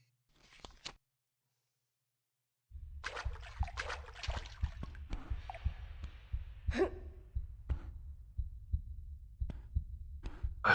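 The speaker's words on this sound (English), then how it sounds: "I forgot this level has that constant heartbeat" Tomb Raider Remastered underwater level 40 Fathoms, with a constant low heartbeat thumping in a steady pulse, mixed with watery trickles and breathy gasps and sighs from the game.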